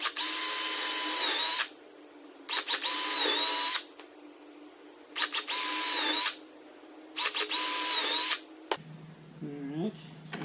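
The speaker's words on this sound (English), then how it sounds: "Now, I'm going to try and drill all these out." A power drill boring a series of holes for a homemade shoulder mount, running in four loud, steady bursts of about 1.5 seconds each with short pauses between, then stopping as quieter handling sounds follow.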